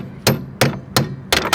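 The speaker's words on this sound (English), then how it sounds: "I'm just trying to hammer the thing out" Hammering a stuck part out with a chunky piece of metal: four sharp, loud metallic strikes at irregular spacing, the last a quick double blow, with no voices.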